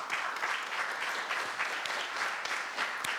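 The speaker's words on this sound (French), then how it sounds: "je voudrais déjà que nous les applaudissions, tous nos invités qui ont accepté de participer à ces rencontres" Steady applause from a seated audience welcoming invited guests at the official opening of a meeting, dense and even, heard from a moderate distance with no voices over it.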